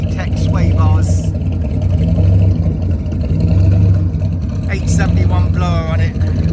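A supercharged 8.1 litre big-block show car engine fitted with an 871 blower runs at a steady, deep rumbling idle throughout, with someone talking over it.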